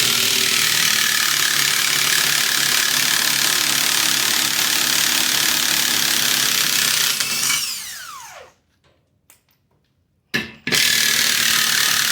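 A power tool ratchets off lug nuts from a car's weld aftermarket wheel, a loud continuous whirring buzz that abruptly cuts out, leaving a brief pause of near silence and a couple of short bursts before resuming.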